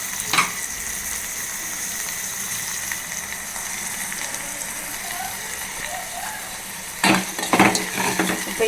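Chopped tomato and onion sauté in a pan while cooking a keerai kadayal, giving a soft steady sizzle with a couple of louder stirring scrapes near the end.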